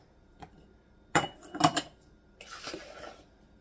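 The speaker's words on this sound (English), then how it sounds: "I'm going to do a big scoop first, and then we'll go back and fill the rest." Homemade spice blend scooped into half pint glass jars: a few sharp clinks and taps of a scoop against glass, close and clear, followed by a softer rustling pour of dry spices.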